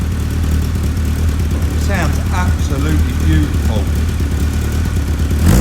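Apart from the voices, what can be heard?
Caterham 7 engine idling and revving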